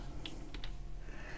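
A few light keyboard keystrokes, a small cluster of quick taps at close range, set against a low steady background hum with no talk.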